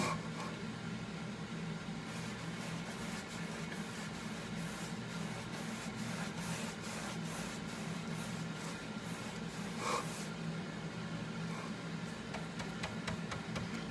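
A big radiant heater gives a faint, constant electrical buzz and hum in the background of a quiet room, with a few soft scattered rubbing noises and no talk.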